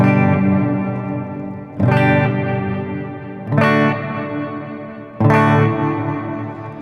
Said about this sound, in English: let's go ahead and activate the engine A, the left button on the Oceans 12, and then we've got room reverb